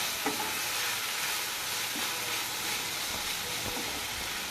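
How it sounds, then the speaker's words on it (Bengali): Drumstick leaves with chili and garlic being stirred in a hot pan, giving a continuous loud sizzle with faint scraping stir strokes underneath. "শাকটাকে আমি দেওয়ার পর খুব ভালো করে নাড়াচাড়া করে নিচ্ছি"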